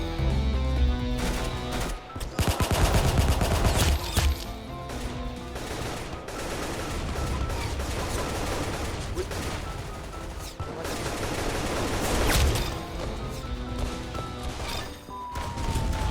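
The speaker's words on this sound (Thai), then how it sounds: "กูยิงไม่โดน" Gunfire in the Roblox video game: repeated shots and bursts crackle through a dense, busy game soundtrack, fairly loud and continuous, with a heavy burst early on.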